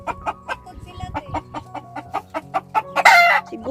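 Chickens at a desert chicken farm in Saudi Arabia cluck in a steady, rhythmic series of close calls, ending with a louder rooster-like squawk.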